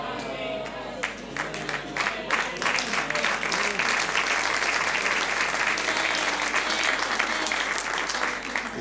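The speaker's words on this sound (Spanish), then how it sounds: "Poco aplauso, hermano." A church congregation in Santiago, Chile applauds during a Sunday service, sustained clapping from many people in a room, moderately loud and steady throughout with some voices beneath.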